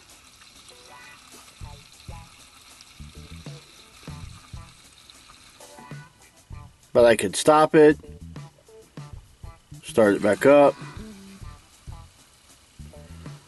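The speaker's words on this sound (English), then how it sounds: "See how the bubbles kick up like that? The air bubbles." A battery-operated pump pushes gasoline from a can into a generator, giving two loud bursts of bubbling, gurgling fuel flow between quiet stretches. Someone talks throughout.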